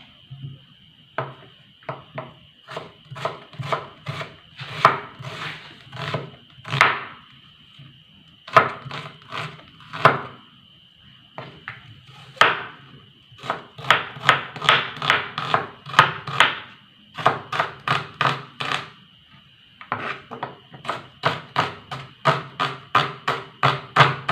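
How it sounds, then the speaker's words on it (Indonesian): Rapid knife chops on a wooden board as shallots are cut into small pieces, crisp repeated taps in bursts with short pauses, close and clear with no talking. "Saya potong kecil saja sahabatku ya. Bawang merah,"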